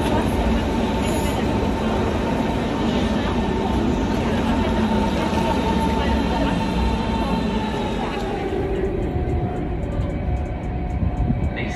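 A train rumbles at a Berlin railway station platform, producing a loud, continuous, close roar with a steady hum and a faint high whine that cuts out near the end.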